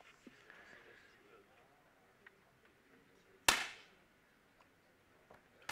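A 10m air pistol fires a single sharp, loud crack on an indoor range during the 2012 ISSF World Cup men's final in Munich. A quieter room hush follows, with a faint second click at the very end.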